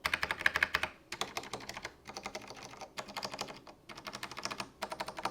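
A clacky mechanical keyboard is typed on in close, quiet bursts of rapid key clicks separated by short pauses, with no talking.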